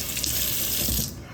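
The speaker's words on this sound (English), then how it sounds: "We'll just rinse it off a little bit." Tap water runs steadily into a kitchen sink as a knife used for cutting greens is rinsed, a continuous close splashing hiss that cuts off near the end.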